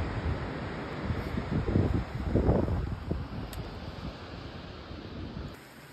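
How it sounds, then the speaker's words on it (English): Strong, gusty wind on the Rees Dart hiking trail buffets the microphone in loud, swelling blasts that peak midway, then eases and cuts off near the end; nobody speaks. "The wind is so hectic right now."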